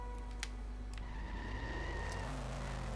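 A monster truck in The Simpsons Hit & Run video game drives with a loud, steady engine drone and shifting pitch, with brief high tire squeals.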